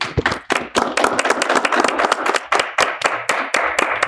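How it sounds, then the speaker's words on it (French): Guests in a French talk-show studio get a burst of close, loud hand clapping with distinct individual claps in an uneven rhythm, rising and dipping over a few seconds. "Donc, tonnerre d'applaudissements s'il vous plaît pour nous."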